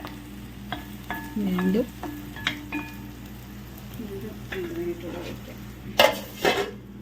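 Beef roast frying in a pan with browned onion, ginger and garlic, stirred with a spoon that scrapes and clinks against the metal over a steady sizzle, with a brief spoken word and a louder clatter near the end.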